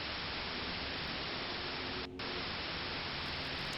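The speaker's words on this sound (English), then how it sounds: "The television screen's filled with white noise again." Television white noise static from Fear and Hunger 2: Termina, a steady loud broadband hiss with faint hum, unbroken apart from a brief dip near the middle.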